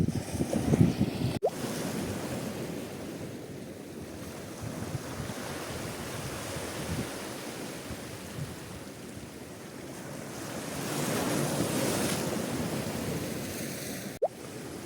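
Sea waves wash onto a beach at sunrise, a steady low rush of surf with a slow swell of louder breaking, blended with wind noise on the microphone.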